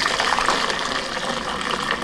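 Hot liquid plant dye made from black-eyed Susans pours steadily into a bowl, a continuous close splashing gush that runs without a break for about two seconds.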